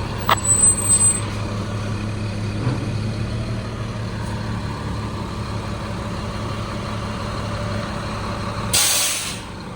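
A fire department tanker truck idles with a steady low engine rumble, a sharp air brake hiss near the start and another loud burst of air release near the end.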